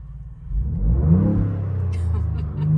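A Ford Bronco with an AFE exhaust upgrade rumbles deep and loud from inside the cabin, swelling as the engine revs up and settling into a steady low drone, with a brief voice near the end.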